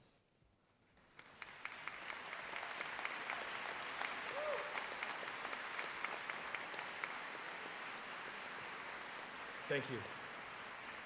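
A large graduation audience at a high school commencement applauds cum laude students, steady dense clapping rising after a brief quiet start and holding evenly, with a short spoken voice near the end.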